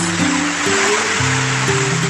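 Strong typhoon wind and rain during Typhoon Tino make a loud, steady, unbroken roar of rushing air and pouring water that fills the whole clip, with no voices.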